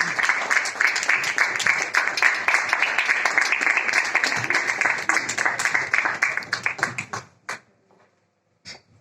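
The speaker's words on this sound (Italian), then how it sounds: "Fate ancora un applauso per Aurelio Secchi" Audience applause at a comedy show at Cueva Rock in Quartucciu, Cagliari: dense, steady clapping that fills most of the clip, then thins to a few scattered claps and dies out near the end.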